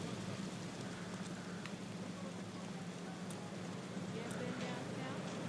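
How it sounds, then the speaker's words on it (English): Steady rain in the video game GTA 3 hisses evenly and without a break, a soft, constant wash of drops falling on surfaces throughout. "I guess we just wait in the rain."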